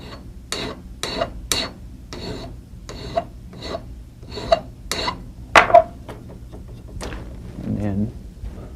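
Wide number 2 cut pillar file rasping across a steel 1911 pistol part, about a dozen rhythmic strokes close by, each a short gritty scrape with brief pauses between.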